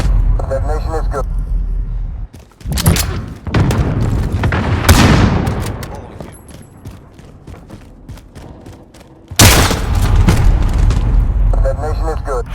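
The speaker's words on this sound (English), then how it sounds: "Detonation is good." Heavy booming detonations in a military shooter game, a loud blast near the start and another sharp burst later, with rumbling debris and gunfire-like crackle between, under game voice callouts.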